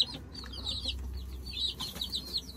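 Chicks peeping in rapid, high, repeated chirps, fairly close and continuous over a low background rumble.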